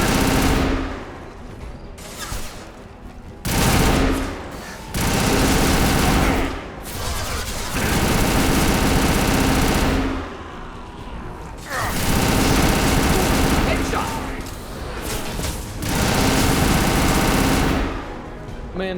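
Heavy, rapid weapon fire in Mass Effect 2 pounds out in long loud bursts separated by short pauses, dense and close throughout.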